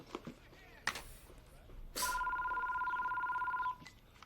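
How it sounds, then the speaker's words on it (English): A telephone rings from a scene of the TV drama The O.C., a steady electronic warble lasting nearly two seconds after some faint background movement and a sharp knock. "Is that the phone?"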